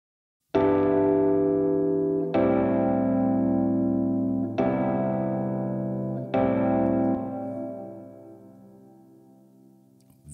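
Four Rhodes electric piano chords through an amp simulator, each struck and left to ring, warm and slightly driven, with a lush Nevo reverb tail spreading behind them; no voices.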